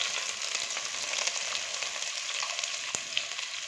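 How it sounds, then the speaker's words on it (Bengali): Chopped onion frying with whole spices such as cloves and crushed black cardamom, a dense continuous sizzle, loud and close, with faint crackles and no voices. "পেঁয়াজটা একটু ভাজা ভাজা হবে"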